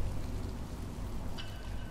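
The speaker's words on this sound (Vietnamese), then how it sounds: "Cứ chạy lòng vòng trong mưa thế này thôi" Steady rain patters across surfaces in a video game, a dense, even hiss with no voices over it.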